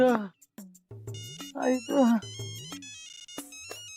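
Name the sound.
phone ringtone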